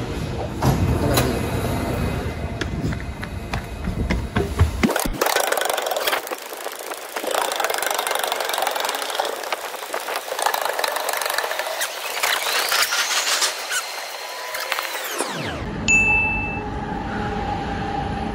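A train rumbles loudly into a Singapore station on the North-South line with a roaring, hissing rush that cuts off abruptly, followed by a brief chime and quieter platform noise.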